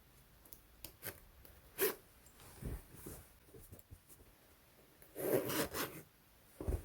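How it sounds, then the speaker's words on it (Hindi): A repaired bag zipper is run closed in a few short scraping pulls, the longest burst near the end, close up and quiet with no talking. "ये ज़िप बिल्कुल ठीक बंद हो रही है।"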